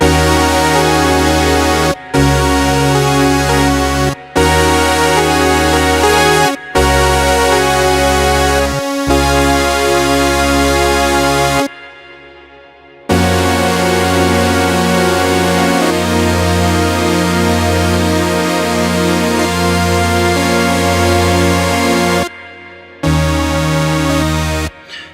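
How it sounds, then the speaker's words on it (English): Casio HT-6000 synthesizer playing a detuned sawtooth patch with reverb and delay, loud sustained buzzy chords held for a few seconds each, separated by brief gaps and one fading tail. "So basically, if you add some reverb to it and a little bit of delay, you're gonna start having very, very interesting fatty sounds."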